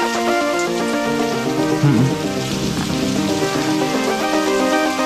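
Steady rain falls across the whole stretch, a dense continuous patter on surfaces with a tonal musical bed underneath and no talking.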